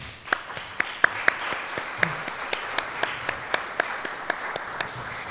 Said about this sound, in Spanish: Doña Lormida García Loaiza, por favor, un aplauso.